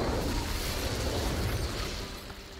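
An Incendio fire spell in Hogwarts Legacy flares as a sustained, roaring whoosh of flame, loud and steady for a couple of seconds before easing slightly at the end.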